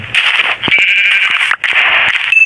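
A goat bleats loudly and close, a long wavering cry broken by a brief pause, then a second sustained bleat, with no talk over it.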